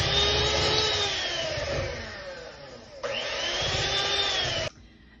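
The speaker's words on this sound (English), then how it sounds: "Now we're going to mix this on a low speed" Electric hand mixer churning a thick pound-cake-style batter on low speed, a steady close whirring drone that dips briefly at three seconds, then resumes and cuts off abruptly near the end.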